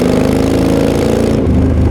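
Yamaha XVS 1300 cruiser engine rumbling steadily at riding speed as the throttle rolls on, a close, continuous low drone whose tone shifts slightly near the end.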